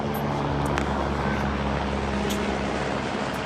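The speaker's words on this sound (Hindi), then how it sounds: "तो हेलीकॉप्टर भी जाता है यहाँ से।" A helicopter flying over the Valley of Flowers in the Himalayas, a steady droning engine and rotor hum with tonal harmonics, moderately loud and constant throughout, with no talking.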